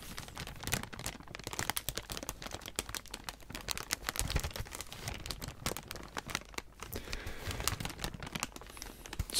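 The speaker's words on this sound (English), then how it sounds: "So we have a non-paper oriented crinkle to contrast against the others." Air-filled plastic packing pouches from a mail delivery are crinkled and squeezed close up, a continuous dense crackling with irregular sharp pops and no talk.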